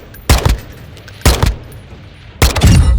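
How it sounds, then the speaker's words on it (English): Assault rifle in Modern Warfare 2 fired on full auto in three short, loud, close bursts separated by brief pauses, with no speech during the shots. "6 shots all the way down there on full auto"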